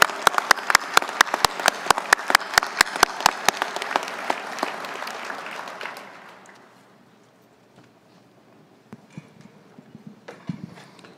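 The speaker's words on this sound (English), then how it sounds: "Let's have one more round of applause for our awardees today." Loud, dense applause from the audience at a military awards luncheon honoring enlisted awardees rolls on for about six seconds, then fades into a quiet room with a few scattered sounds.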